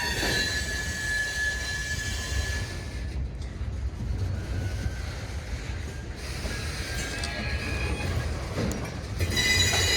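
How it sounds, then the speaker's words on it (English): A long freight train rolls past, with Wisconsin Central boxcars among its cars: continuous close rumble and clatter of wagons, with high metallic wheel squeal rising and falling throughout. "Here's the Wisconsin Central boxcar."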